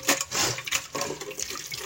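Boiled papaya leaves being rinsed and washed by hand in water, with irregular splashing and trickling close up, fairly soft and uninterrupted by talk.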